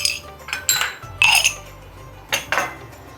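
A metal pan is handled while dried chillies roast in a little oil for a dhaba-style palak recipe: a few clinks and scrapes of metal at irregular intervals over a low, steady background hum.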